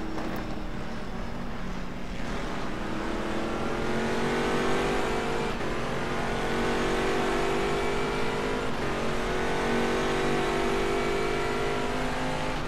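GT3 race car engines at Silverstone in rFactor 2 drone steadily under racing conditions at night, the revs climbing through gears and dipping again, with a constant loud roar throughout.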